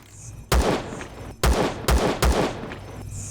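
Gunfire in the space survival game Empyrion Galactic Survival, aimed at a drop container: four loud, sharp shots in a quick uneven burst, each with a short booming tail, over faint background hum.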